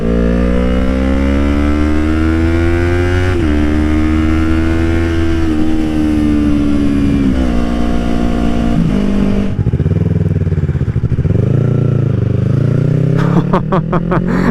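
A Yamaha R3 streetfighter motorcycle accelerates hard from third gear, its engine note climbing loud and close in a long rising rev with brief dips at the shifts, then settling and revving again.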